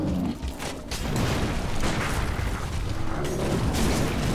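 A pistol shot in the video game Bloodborne booms once near the start, followed by a continuous dense rumble of game combat noise.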